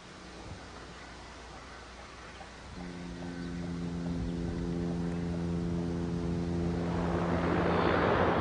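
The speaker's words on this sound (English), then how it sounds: "The combination of 32 propeller blades and 4 extremely powerful turboprop engines made the Bear one of the loudest aircraft in the history of aviation" Tupolev Tu-95 Bear with four turboprop engines and 32 propeller blades, a broad roar swelling steadily as a low droning hum with strong harmonic tones sets in midway and builds louder toward the end, without any talking.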